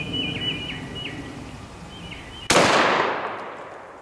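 A single 12 gauge shotgun blast from a Chiappa X-Caliber survival shotgun fired outdoors, one sharp loud report with a decaying tail, preceded by birds chirping in the background.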